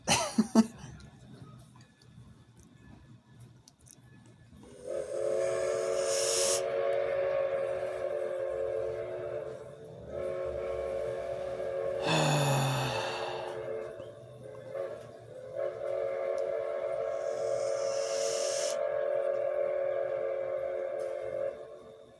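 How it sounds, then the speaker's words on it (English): A steam locomotive sounds its steam whistle in three long, loud, tonal blasts separated by short gaps, over the rumble of the running engine. "So they actually have the steam engine running again now."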